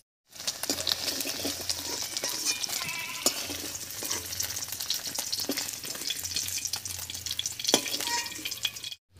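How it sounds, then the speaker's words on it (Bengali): Paneer fries in white oil in a kadai, giving an even, close sizzle and crackle with scattered pops and spoon stirring the whole way through. "পনিরগুলো সাদা তেলে হালকা করে ভেজে নিয়েছি।"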